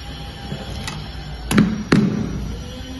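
A filter wrench on an oil filter gives two sharp metallic clacks a moment apart, each with a short low rattle, over a faint steady background hum, with no voices.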